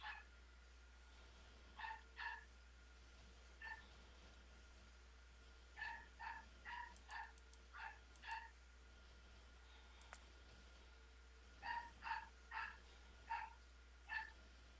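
A dog barks excitedly in repeated short bursts and clusters, somewhat distant and faint against a steady low hum, with no talk over it.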